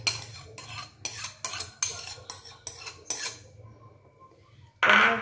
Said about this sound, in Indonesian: Kemudian kita masukkan 2 kuning telur. Ini masukkan, kita kocok dulu.